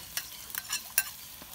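Onion frying in a pot: a faint, low sizzle broken by a few sharp, quick spatters or utensil clicks, with no talk.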